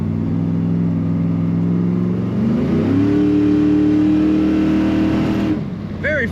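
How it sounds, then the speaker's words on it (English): Up close, a 1970 Chevrolet Nova's engine is revved by pushing the throttle, its drone climbing in pitch midway and holding high before dropping off sharply near the end. "Very fun to push the throttle."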